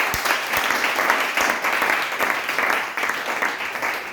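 A church congregation applauds in praise, dense sustained clapping from many hands filling the room, steady and fairly loud with a faint voice underneath.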